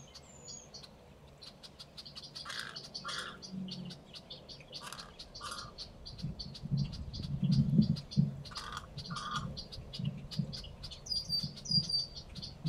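Red-winged blackbird calls and chirps from a wetland marsh, with repeated sharp tweets over a steady chorus of frogs and other birds, moderately close and continuous throughout.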